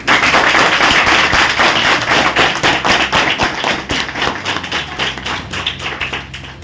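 A group of students at a residential school claps for a speaker, a dense burst of applause that starts loud and gradually thins and fades toward the end.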